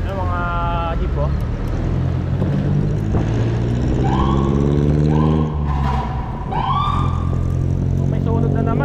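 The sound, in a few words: siren of a fire emergency vehicle in traffic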